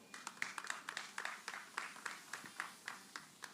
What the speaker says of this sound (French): Et applaudissez pour vous-même d'abord, mesdames.